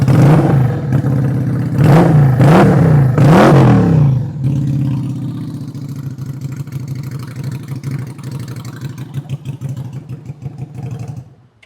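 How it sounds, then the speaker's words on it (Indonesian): Close SM Sport V16 bobber motorcycle with a custom MWM exhaust, three sharp throttle revs rising and falling, then a loud rumbling idle that carries on to the end. "suara knalpotnya blar banget, asik banget nih"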